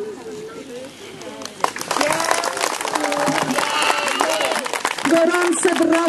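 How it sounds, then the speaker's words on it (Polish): Parents in an audience applaud a children's performing group, warm clapping that builds and continues under a speaking voice. "Gorące brawa dla grupy Żabek."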